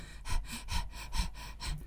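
A woman demonstrates nervous, shallow chest breathing: about six quick, audible in-and-out breaths in an even rhythm, close and fairly soft, with no talking.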